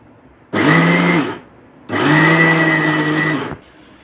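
Blender grinding sesame seeds into a dry powder in pulse mode, two loud whirring bursts of about one and two seconds separated by a short pause, close by with no talking.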